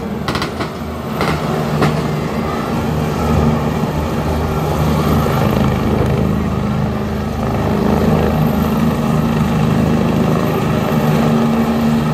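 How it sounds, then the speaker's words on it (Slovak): A police helicopter during an interior ministry display, its rotor drone steady and loud at close range, with a few sharp knocks early on and no talk. "Vrtuľník v tom prípade slúži na krytie."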